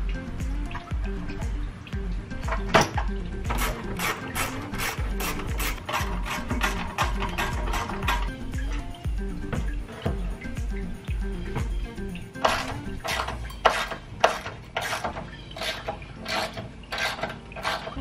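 Coolant reservoir and hoses being pulled from a 2003 Mustang Cobra engine bay, with close ratcheting clicks, rapid clacks, wet squishes and plastic creaks coming in busy irregular bursts, no speech.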